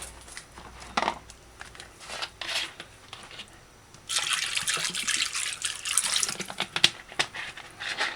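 A pig's tail is rinsed under a running kitchen tap: quiet handling and light drips at first, then a strong, steady rush of water splashing over the meat for the remaining seconds.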